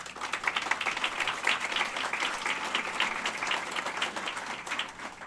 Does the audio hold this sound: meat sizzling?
no